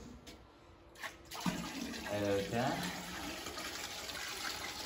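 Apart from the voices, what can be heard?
water being poured into a bucket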